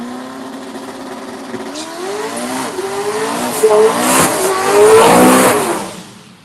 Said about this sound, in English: What a good burnout for the truck.